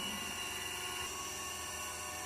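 A DC series machine runs at a steady 1200 RPM on a lab test bench, giving a constant, smooth electric whine and hum with no change in pitch or level.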